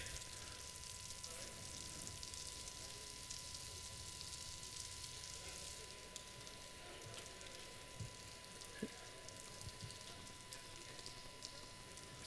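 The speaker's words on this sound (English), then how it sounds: "So that's the shrimp making noise." Underwater, shrimp make a dense, steady crackling and snapping hiss, continuous throughout, with a few sharper clicks and a faint steady hum beneath.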